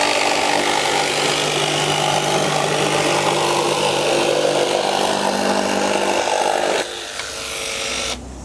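Milwaukee M12 Fuel cordless jigsaw making a straight cut at top speed, left-handed, a loud, steady high buzzing rasp of the blade that drops in pitch near the end before cutting off, no talking.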